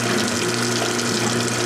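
Steady rushing spray of water with a low mechanical hum from the drain pump underneath, continuous and fairly loud throughout, as a Whirlpool direct-drive washing machine with a broken motor coupler runs a spray rinse.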